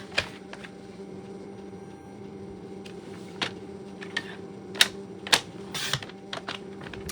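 Paper for a pop-up card is cut with a trimmer, giving a series of sharp clicks and snaps over a low steady hum, with the loudest cuts clustered toward the end.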